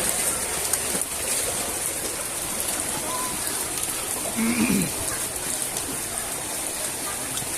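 Steady rain pours onto a flooded street during a storm, a dense, even hiss of water lasting throughout, with a brief louder splash or murmur near the middle.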